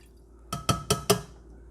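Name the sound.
pouring distilled white vinegar into a Cosori electric kettle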